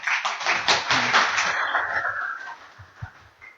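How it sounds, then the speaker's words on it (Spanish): An audience at a conciliation conference panel claps briefly, a burst of close, dense clapping that fades within a couple of seconds, followed by a single soft tap. "Fuertes palmas, por favor."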